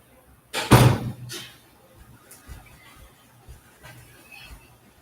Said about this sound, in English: then I'm going to close the door